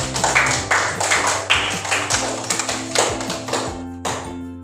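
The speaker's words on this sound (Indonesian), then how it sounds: "Tepuk tangan untuk semua kelompok" Students in a classroom clap together for all the groups in a brisk, rhythmic run of sharp, close claps lasting several seconds, with no talking over it.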